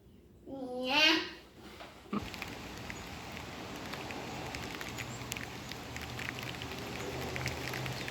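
Steady rain falls outdoors onto painted paper art left out to soak, a continuous soft patter that starts abruptly after a child's brief babbling and carries on evenly to the end.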